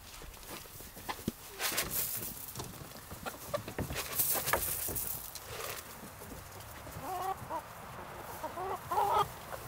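Chickens cluck around a hay feeder, with soft intermittent clucks and scratchy rustling, plus a few clip-clop-like knocks nearby, quiet and close, while a person speaks briefly.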